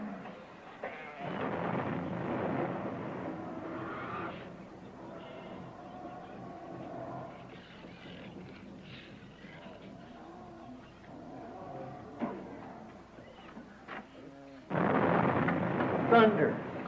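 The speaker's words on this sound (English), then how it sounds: "thunder." Thunder rolls as the rain begins before Noah's ark: a long, low, rumbling roar that swells loudly at the start, eases into a steady murmur and then surges again near the end, with faint voices mixed in.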